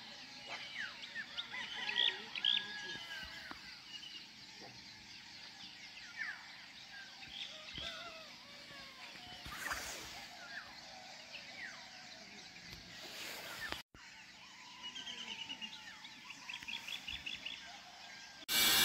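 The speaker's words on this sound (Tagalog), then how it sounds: "Wala kang maririnig, kundi ang agos ng ilog at huni ng ibon." Birds call and chirp over the steady rush of a flowing river at a mountain campsite in Rizal, Philippines, with quiet, scattered calls throughout and no talking.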